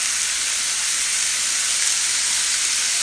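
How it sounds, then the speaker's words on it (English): Paneer and mixed vegetables stir-frying with Maggi sauce give a steady, close, even sizzle and hiss that holds for the whole stretch without a break, with no voices over it. "You can sprinkle it on the vegetables and keep on stirring it so that everything is mixed well"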